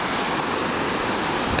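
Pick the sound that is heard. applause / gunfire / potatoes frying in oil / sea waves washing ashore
sea waves washing ashore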